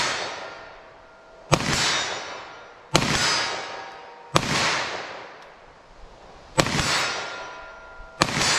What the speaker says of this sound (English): Oh, we missed that first shot there.